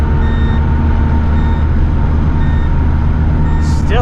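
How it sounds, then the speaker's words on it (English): Intermittent speed alarm beeping in a 1983 Honda Acty Street L while driving, a regular series of short tones above a loud, steady engine and road drone. "Still hit the speed alarm though."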